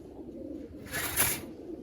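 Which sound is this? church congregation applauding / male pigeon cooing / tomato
male pigeon cooing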